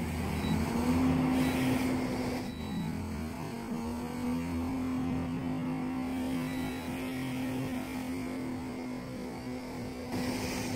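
A Kingkong 110GT quadcopter drone fitted with RotorX 2535BN props flies nearby, its motors giving a steady droning whine that rises and falls slightly throughout, without speech.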